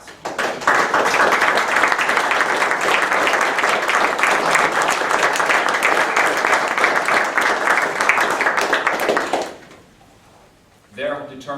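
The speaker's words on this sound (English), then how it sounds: "Please stand up and give a round of applause." An audience at a village state-of-the-village meeting applauds EMS and fire department members, a dense, even burst of clapping lasting about nine seconds before stopping abruptly, followed by a voice speaking.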